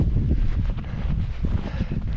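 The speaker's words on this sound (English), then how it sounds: "It's a little windy up here, not crazy." Winter wind buffets the microphone on a mountain summit in the White Mountains of New Hampshire, a continuous low, gusty rumble that is moderately loud and uneven.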